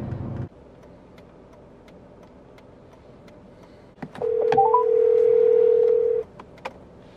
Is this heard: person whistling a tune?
no